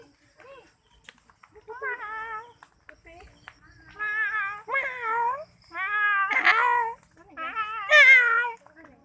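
A cat meows repeatedly in Carmona, Cavite, Philippines, several drawn-out, wavering cries close by, with short pauses between them and one louder, harsher yowl near the end.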